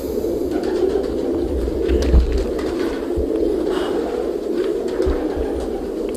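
Iranian high-flyer pigeons coo in a low, throaty murmur, a continuous soft rumbling with small bursts, close by and steady throughout with no voices.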